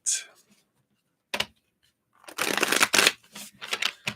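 Tarot cards being shuffled close by: a quick riffle, then a burst of brisk, crisp shuffling flutters in short bursts, with quiet pauses between.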